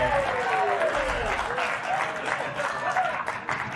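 An audience breaks into loud applause, a dense crowd of clapping that holds steady throughout.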